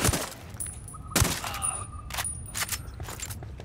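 Gunfire in the video game Ghost Recon Wildlands: a couple of sharp, loud shots early on followed by scattered fainter bursts and clicks over a low background.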